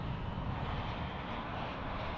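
A fixed-wing airliner inbound from Las Vegas arrives at DFW airport, its engines producing a steady, loud broadband roar that holds evenly throughout with no voices over it.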